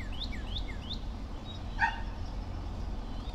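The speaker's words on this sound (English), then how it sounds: "neighbor's dog." A neighbour's dog barks in the distance, a few quick high yips near the start and one sharper bark midway, faint over a low steady background rumble outdoors.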